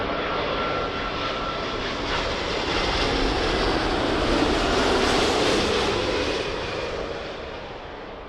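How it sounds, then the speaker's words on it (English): A British Airways Airbus A350 from Sao Paulo lands at Heathrow on runway 27L, a loud continuous jet roar that builds gently toward the middle and fades slightly at the end, without voices. "It's British Airways A350 from Sao Paulo."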